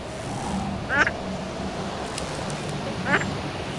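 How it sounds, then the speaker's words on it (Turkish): Two short duckling quacks in a video game sound about two seconds apart over a steady background hum, small and game-like in tone. "Aa, yavru ördekler geldi."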